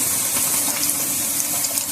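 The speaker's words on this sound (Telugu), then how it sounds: "కొంచెం వాటర్ పోస్తున్నామండి" Water pours steadily into a cooking pan with green peas for a fresh turmeric curry, a continuous splashing gush, close and fairly loud, with no voices.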